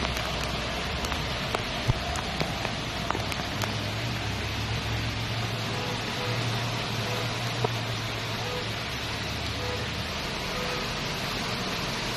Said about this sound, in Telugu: మళ్ళీ వర్షం పడుతుండటంతో